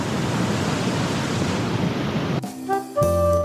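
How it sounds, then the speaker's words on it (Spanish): Roaring waterfall at Baños de Agua Santa, Ecuador, a loud steady rush of falling water filling the scene, then cutting abruptly to quieter ambience with tonal hum near the end. "La fuerza que cae el agua es tremendo, tremendo."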